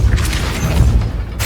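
Depulso force spell cast in Hogwarts Legacy, a heavy booming blast with a rumbling low-end impact that carries loud and steady for the full moment, ending in a short crackling burst.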